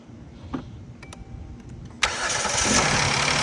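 An old car with a no-crank fault, fixed by a new alternator, cranks and fires up about two seconds in with a sudden loud roar. A few faint clicks come first, and then it settles into a steady, close-up idle.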